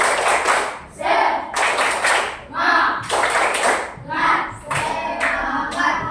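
A classroom of standing students performs a rhythmic spirit clap, bursts of clapping in patterned groups repeating several times, loud and close, with children's voices chanting along between the claps.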